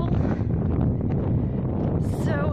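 Steady wind in the open desert of Makhtesh Ramon, Israel, buffeting the microphone as a loud continuous rush for the whole moment, with someone speaking under it.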